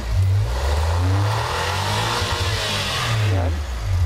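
Turbocharged engine of a DA17W AWD vehicle revving steadily up close, a loud sustained drone with rising and falling pitch and no talk over it.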